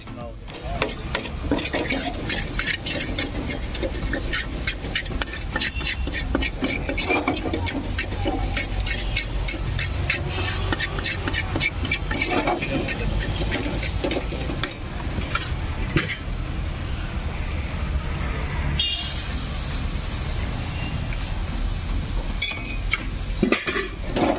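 Masala sauce pasta is stirred and mixed in a pan at an Indian street food stall, with constant close sizzling and frying hiss, repeated metallic scraping and clinks of a utensil against the pan, and busy street noise around it.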